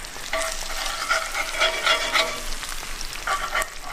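Eggs, hash browns and sausages fry together on a camp stove outdoors, giving a close, busy sizzle with bursts of crackling and spitting that swell and ease over a few seconds, no talking.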